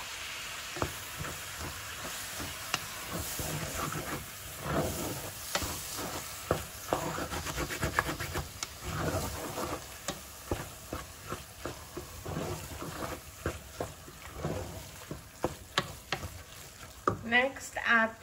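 Tomatoes stirred into a frying pot of Khoresheh Addas, a Persian lentil stew, with repeated scraping stirs over a steady close sizzle and a few louder clatters near the end.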